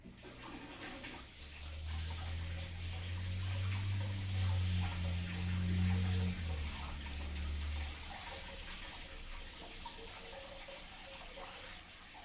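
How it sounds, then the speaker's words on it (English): Cold water runs steadily from a sink tap and pours over a nail tip, a continuous close rushing splash lasting the whole stretch. "take this to this sink and pour cold water over it"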